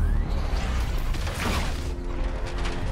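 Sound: Batmobile switching to battle mode, Batman video game

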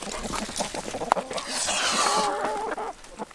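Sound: chickens clucking

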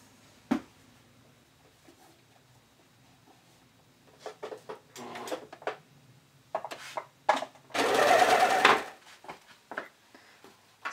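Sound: serger or sewing machine stitching bikini cup lining

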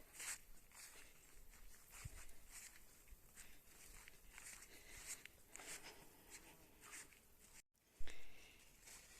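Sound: footsteps walking through garden

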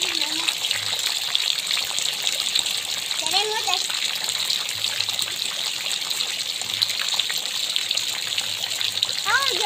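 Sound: stream of rainwater gushing into a bottle

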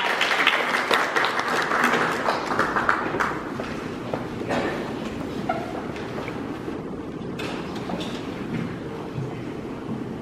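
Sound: audience applause at gallery opening ceremony

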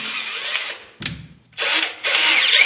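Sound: power drill drilling plastic

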